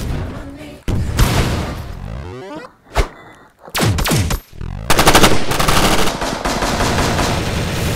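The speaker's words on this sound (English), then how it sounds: "Yo, I got the rocket launcher." A rocket launcher fires in the video game Totally Accurate Gun Simulator, giving several loud, sharp blasts with rumbling tails, separated by brief quiet gaps and followed by a dense run of repeated bursts.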